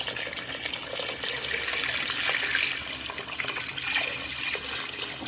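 Water pours steadily into a pot of fried meat for couscous, a continuous close splashing gush with a slightly changing tone as the pot fills, heard alone without talk.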